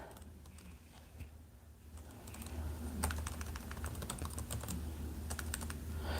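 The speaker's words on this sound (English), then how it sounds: "I think I'm supposed to type." Rapid, fairly faint clicks of typing on a computer keyboard run in uneven bursts over a low steady hum, with no voices.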